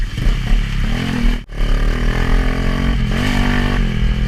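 A loud, close modified Honda XRM underbone trail motorcycle engine rumbles and revs steadily on a muddy off-road trail, with a brief dip and a clatter midway, then keeps running.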